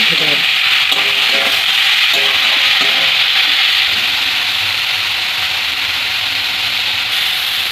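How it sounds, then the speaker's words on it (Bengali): Grated coconut with sugar frying in a pan, a close, loud continuous sizzle with brisk scraping and stirring strokes early on that ease into a steadier hiss. "নারকেলটা আমার মোটামুটি লাল লাল ভাজা হয়ে গেছে"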